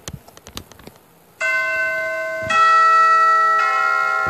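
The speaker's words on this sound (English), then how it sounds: "Why in this moment you're turning on the bell?" Bell in a Roblox game struck twice and then again, each strike ringing out loud with a long sustained metallic tone, after a few scattered clicks and taps.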